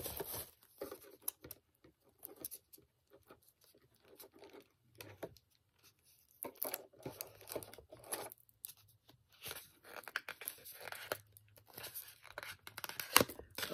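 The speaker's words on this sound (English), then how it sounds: "Now I have to get it out. Just rip the box." A cardboard box holding a makeup palette is torn open by hand, with sporadic ripping and crinkling bursts between quiet pauses, fairly faint and close.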